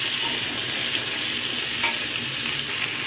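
Pumpkin and mixed vegetables are stirred and fried in a pan, giving a loud, continuous close-up sizzle with a brief scrape of the spatula partway through.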